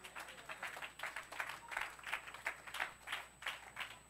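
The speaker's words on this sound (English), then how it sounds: "Can somebody clap and give Jesus praise?" A church congregation at a Sunday service claps in praise, a steady rhythmic beat of many hands, fairly faint and distant, with no speech over it.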